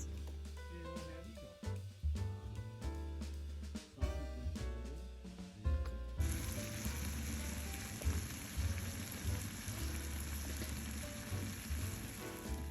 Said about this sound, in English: Now I'm going to add tomato sauce.